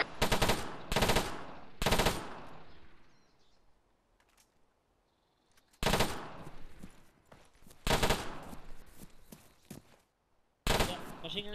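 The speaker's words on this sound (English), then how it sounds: "do you guys see that automatic machine gun? Sound like it." Automatic machine gun fire in the video game Arma 3: several loud, sharp bursts separated by quiet gaps, each with a short echoing tail.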